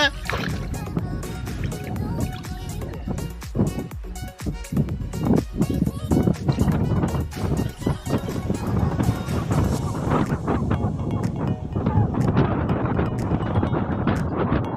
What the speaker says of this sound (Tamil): கலங்குது காற்று வருது வருது